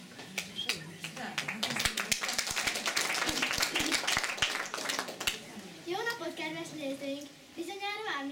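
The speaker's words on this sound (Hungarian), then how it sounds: "Bátorítsuk tapsal a következő jelenet kiszereplőjét." An audience at a fourth-grade school carnival play claps, a burst of scattered, fairly close handclaps lasting several seconds, while voices talk and children's voices rise over and after it.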